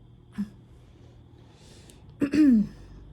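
A short throat clearing, a quick rough rasp followed by a voiced gruff hum, close and fairly loud against a quiet background.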